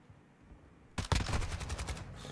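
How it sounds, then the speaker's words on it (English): Enemy gunfire in a first-person shooter game: after a near-silent second, a sudden loud burst of rapid shots erupts, followed by continued dense automatic fire and rattling that keeps going to the end. "They're shooting at me!"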